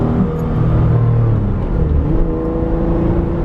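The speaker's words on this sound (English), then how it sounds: "I love that induction sound, that Honda, that old Honda induction sound intake" An Acura NSX's Honda engine hums and whirs steadily with a throaty intake induction tone, close and loud, holding near-constant revs.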